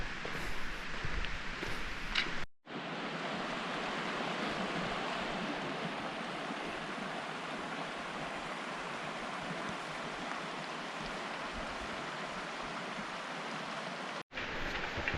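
Rock Creek rushing where the Pacific Crest Trail crosses it, a loud, steady broadband wash of flowing water heard close up with no voices, briefly cut out near the start and end.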